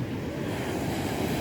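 Surf roars in a steady, heavy wash of high breaking waves at night on Haeundae Beach, Busan, mixed with gusty wind rumble on the microphone.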